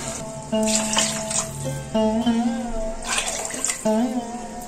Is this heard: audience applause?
no